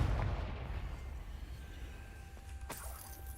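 In a Harry Potter video game, a low rumbling fire-spell blast opens loud and decays into a faint hiss, followed by a small sharp crackle near the end.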